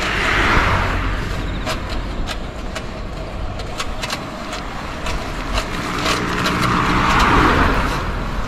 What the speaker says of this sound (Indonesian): Paling cuma 1 atau 2 mobil aja yang lewat ya.